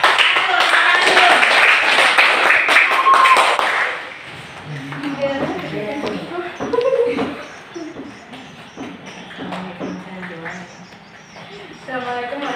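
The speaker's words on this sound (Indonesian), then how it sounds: "Tepuk tangan buat kelompok. Tepuk tangan dulu." A classroom of students bursts into loud, dense clapping for a group for about four seconds, then it stops abruptly and children's voices and light classroom chatter follow.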